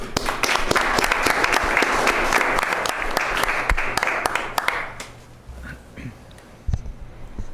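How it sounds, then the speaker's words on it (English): A dense round of audience applause at a Martin Luther King Jr. 'Words in Action' contest winners event, loud and steady for about five seconds before thinning into scattered claps and room noise. "So I'll clap for everyone."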